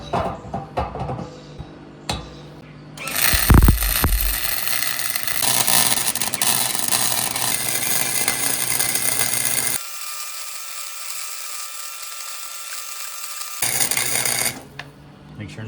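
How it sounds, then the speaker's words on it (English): Welder tack welding a bike rack onto a camper outdoors, a loud sustained crackling buzz running for about ten seconds, preceded by a few sharp knocks and followed by a brief louder burst before stopping. "I am just gonna tack this on"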